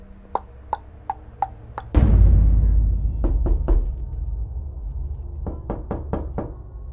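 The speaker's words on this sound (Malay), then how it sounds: "tiba-tiba pintu rumah dia seakan diketuk." Knocks on a house door for a horror story: five sharp raps, then a heavy booming thud, then a cluster of three knocks and a final run of five, crisp and close against a low rumble.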